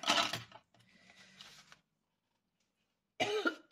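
A single harsh cough bursts out nearby, followed by quiet rustling and then another short throaty cough or throat clearing after a brief silence, from a person with the flu.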